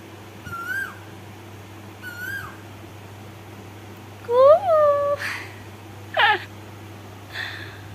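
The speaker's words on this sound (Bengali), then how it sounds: "বন্ধুরা, দেখো বর্ষাকালেও কোকিল ডাকছে। কি সুন্দর কোকিল ডাকছে," An Asian koel calls in the rainy season near a house, several rising whistled notes repeating at intervals, the middle calls louder and closer, with a faint background hum.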